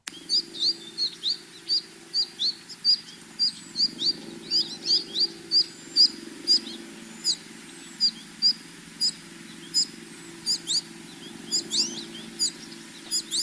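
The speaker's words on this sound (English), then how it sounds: "Here is that chickpea juvenile or fledgling call." Juvenile American goldfinches give repeated chickpea fledgling calls at a woodland food source, a steady series of short, high chirps at roughly one-second intervals over a faint low background hum.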